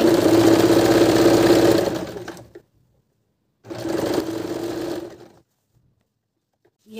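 A sewing machine stitches elastic into a plazo waistband in two close bursts of steady whirring, each about two seconds long, with silence between them.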